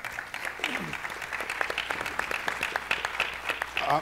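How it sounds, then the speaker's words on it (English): Audience applause at an education summit, a steady patter of many hands clapping at moderate loudness, with a voice speaking briefly at the start. "Everybody give a round of applause."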